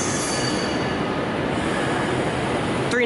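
A Pendolino class 390 train pulls into London Euston with loud, continuous wheel squeal and rumbling rail noise filling the station, alone with no voices.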